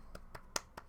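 Four hand claps spaced evenly, sharp and fairly close, a small burst of applause with no talking.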